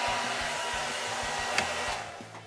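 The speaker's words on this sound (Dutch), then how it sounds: "Pak de föhn en wat bij. Staat die aan? Ja, die staat aan." A hair dryer running steadily at close range to blow out candles on a cake slice, a continuous whirring blow with a brief bump partway through, then winding down, no voices.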